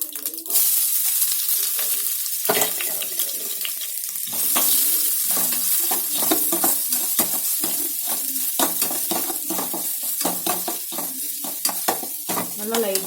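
Vegetables, including grated carrot with mustard seeds, sautéing in a pan for wheat idli batter: a loud, busy sizzle with steady scraping and stirring strokes throughout, and no voices.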